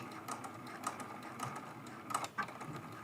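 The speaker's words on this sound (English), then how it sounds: "I'm going to backstitch" A sewing machine backstitching through quilt fabric, a quick run of mechanical ticking and whirring stitches in short bursts, soft and close, with no talk over it.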